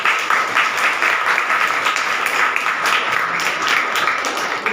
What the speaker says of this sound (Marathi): सर्वांनी एकदा टाळ्या वाजवा.